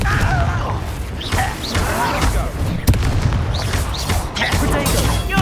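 A Confringo blast spell firing in the Hogwarts Legacy video game, loud booming impacts and crackling bursts mixed with dense combat effects and voices shouting throughout.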